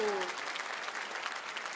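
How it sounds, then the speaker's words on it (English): Light, thin clapping from a studio audience at a televised masked dancing competition, fairly soft and brief, with a voice trailing off at the start. "Felt like that was a little bit like sympathy clap"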